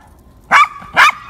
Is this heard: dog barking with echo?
yes